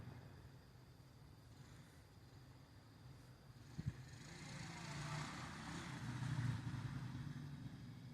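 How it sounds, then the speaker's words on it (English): A four-wheeler ATV engine rumbles faintly at night, a distant low drone that slowly grows louder and nearer, with a brief clatter partway through. "They have this kid out here on their four-wheeler."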